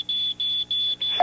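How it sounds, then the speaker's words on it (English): A household smoke detector sounds during a test, giving four rapid, piercing high-pitched beeps in an even rhythm, loud and close. "Test your smoke detectors once a month."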